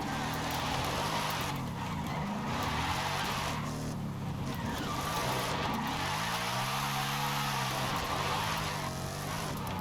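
A tuned car in the racing game Forza Horizon 5 drives and drifts with a continuous engine roar and repeated tire squeals and skids, loud and alone.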